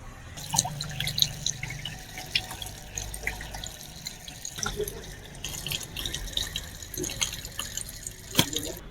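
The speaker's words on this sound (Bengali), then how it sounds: "মাছটাকে আমি কেটে নিয়েছি এবার ধুয়ে ধায়ে রান্নাঘরে আবার দেখা করছি" Pomfret fish being washed under running water in a sink, with a steady trickle, irregular drips and splashes, and occasional louder knocks, fairly close and without speech.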